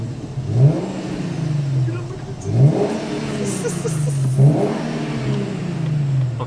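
A car engine revs up three times in a row, each rise in pitch swelling then settling back to a steady idle, close and fairly loud inside the vehicle.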